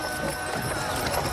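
Horse-drawn carriage or wagon team of two horses on a country road, hooves clip-clopping steadily and close by throughout, with a soft continuous background.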